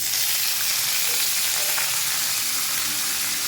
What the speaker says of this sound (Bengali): তেল দিলাম, গরম হয়ে গেছে। বাঁধাকপিটা দিয়ে দিলাম